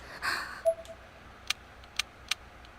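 Doorbell button on a wall in the Corpse Party video game, pressed without power, giving three small, dry clicks spaced about half a second apart after a brief soft rustle.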